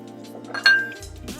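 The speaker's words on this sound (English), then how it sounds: "dark soy sauce, light soy, oyster sauce, sesame oil. Give that a mix." Bowl of dark and light soy sauce, oyster sauce, sesame oil and chili oil being stirred for a chicken noodle stir-fry, heard as a few light clinks and scrapes of utensil against the bowl, one sharper ring near the middle.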